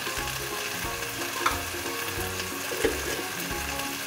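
Chicken pieces, about a kilogram, are stirred with ginger garlic paste in a hot pan, giving a steady close sizzle with scraping and stirring sounds running throughout, and two brief clinks.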